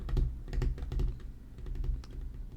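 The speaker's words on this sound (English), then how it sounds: "You hear him typing" Keys clack on a computer keyboard in short, uneven bursts of typing, close and fairly loud, with no talking.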